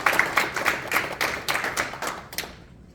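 An audience at an association's annual general meeting claps, a quick scatter of applause with sharp irregular hand claps that thins out and fades to quiet by the end, with no talking over it.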